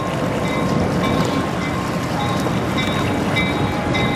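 A Lake State Railway freight train led by locomotive LSR 1501 moves near a paper mill yard gate in Michigan, making a loud, steady rumble and rolling roar with faint high squeals, close by, with no voices.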